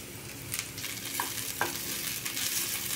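Finely chopped cabbage for veg spring rolls is stir-fried in a hot pan, giving a loud, dense, continuous sizzle with quick scraping and tossing strokes from a spatula, with no voices.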